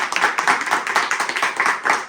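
Festive Diwali gathering of mandal members clapping hands together, a quick steady run of sharp claps close by, with no talking.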